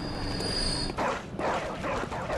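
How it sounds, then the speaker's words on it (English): Dogs barking in the video game Bloodborne, a few sharp yapping bursts from about one second on over a dense, rumbling game soundscape, moderately loud. "Dogs are so annoying in this game."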